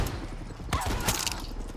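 Player's gun firing in the video game Far Cry 6: two sharp shots about a third of a second apart over a low game background.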